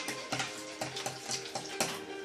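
Red wine marinated chicken breast with beer and coconut is stirred in a sizzling pan, a steady fry broken by several scraping stir strokes at regular intervals.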